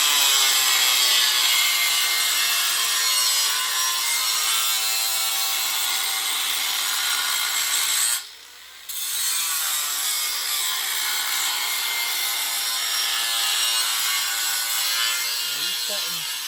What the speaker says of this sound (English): So we're cutting our template out.